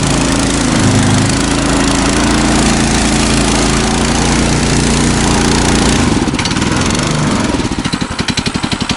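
A vehicle engine revs hard and steady as its tyres spin on snow, the tread packed with snow so it slips without moving; near and loud, the pitch shifting and pulsing toward the end.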